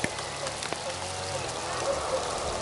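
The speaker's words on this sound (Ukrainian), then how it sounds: "Капець! Дощ іде, а ми сидимо на рибалці." Steady rain falls over a fishing spot, a continuous broadband patter with scattered drop hits, fairly faint and even throughout without speech.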